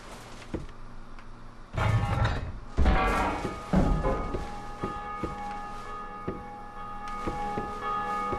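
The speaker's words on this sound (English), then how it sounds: "we want to ring this bell" A heavy bell rings out in Dark Souls 2, with a few dull thuds before a ringing, resonant tone that hangs and decays slowly, struck again with further muffled knocks under the lingering hum.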